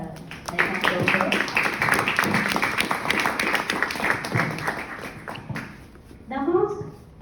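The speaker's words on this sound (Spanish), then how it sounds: "unos aplausos por favor para el doctor" An audience claps in sustained applause at a tribute ceremony for Peru's 2019 national literature prize, fading after several seconds, with a voice speaking over it.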